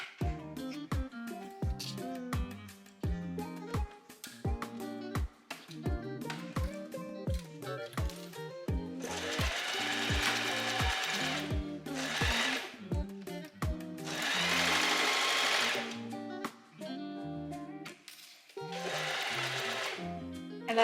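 A sewing machine stitching twice over the strap of a gathered long-sleeved dress, bursts of rapid needle hum separated by pauses with soft clicks and taps between runs.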